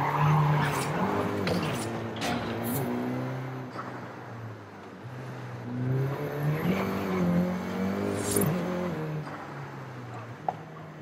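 A Volkswagen Golf GTI in Forza Horizon 5 revs and accelerates with rising engine whine and tire squeals, loud and close, with a voice talking over it.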